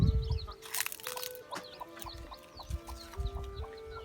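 A mother hen out in the grass gives a few soft, clucking calls, near and fairly quiet, mixed with high chick peeps and rustling.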